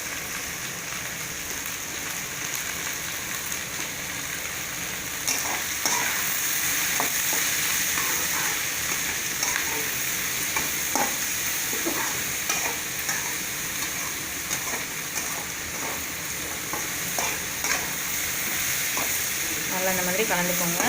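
Cabbage frying in a pan with turmeric and salt, a continuous close sizzle with repeated scraping stirs through the whole stretch.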